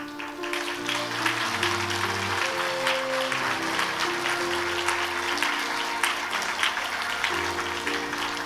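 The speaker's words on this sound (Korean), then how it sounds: "큰 박수로 축하해 주시기 바랍니다." A church congregation applauds during an anniversary awards ceremony, a sustained wash of clapping over a held organ or keyboard chord progression playing underneath.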